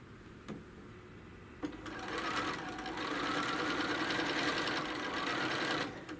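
A sewing machine stitches quilt squares, starting with a few clicks before settling into a steady, fast mechanical whir that runs for several seconds close by and then stops.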